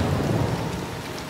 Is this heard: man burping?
no